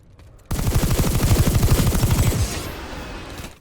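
Rapid single shots from the Lancer, a charge-up weapon in the shooter game PlanetSide 2: a loud, fast string of evenly spaced pulses for about two seconds, then a fading tail, with no talk.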